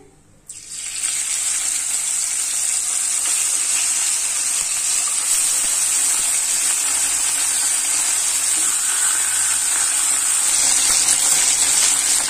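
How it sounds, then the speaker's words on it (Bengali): Pabda fish frying in oil in a hot wok, giving a loud, steady, continuous sizzle that starts abruptly after a brief quiet moment and holds evenly throughout, with no talking. "তার জন্য আগে মাছটা ভেজে নিচ্ছি"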